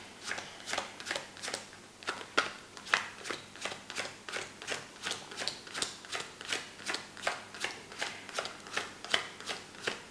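Playing cards dealt one at a time face down onto a table during a close-up card trick, a steady run of crisp, evenly spaced slaps and flicks, close and clear, with no talking.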